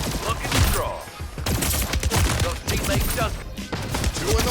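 Shotgun blasts ring out in Splitgate 2, a dense run of gunfire bursts spread across the few seconds, loud and close amid other game action, with a player's voice speaking now and then.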